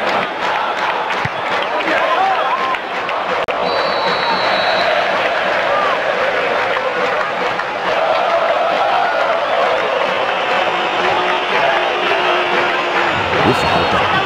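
Stadium crowd in the football video game Winning Eleven 2009 keeps up a loud, continuous roar of cheering throughout, with the game's commentary voice talking over it.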